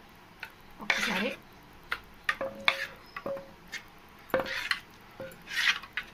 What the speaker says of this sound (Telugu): బియ్యం పిండి కలుపుకోండి, కలుపుకొని వేయాలి